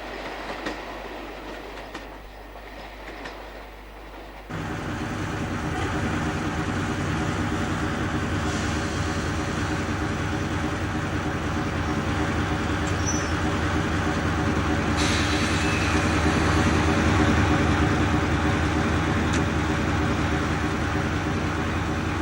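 A train rumbles along the line near Morar Station in Scotland, its steady roar swelling after a few seconds, with rhythmic clatter of wheels over the rails.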